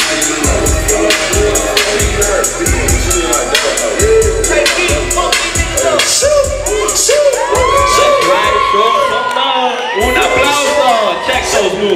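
A loud, close crowd cheers and whoops for the champions, with rhythmic clapping and bangs beating steadily under excited shouting voices throughout.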